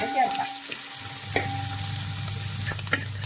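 A ground spice paste for chicken stew sautés in hot oil, with a continuous near sizzle and a few scattered scrapes from stirring.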